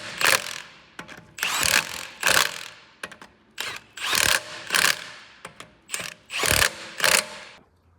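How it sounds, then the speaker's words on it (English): An impact gun runs lug nuts onto a 2013 Audi A4 rear wheel in a crisscross pattern: about a dozen short, loud rattling bursts separated by brief pauses, close by. "you finger start them, and then you run them home with a gun"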